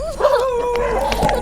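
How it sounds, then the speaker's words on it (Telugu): Dogs on a road bark and yelp close by, a short burst of loud, wavering barks with a whining edge and no talk over them. "చూడు ఎన్ని కుక్కలు అరుస్తున్నాయో."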